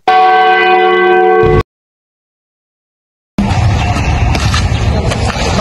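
A loud church bell in a bell tower tolls with a ringing, sustained tone, then cuts to silence before a burst of noisy outdoor rumble.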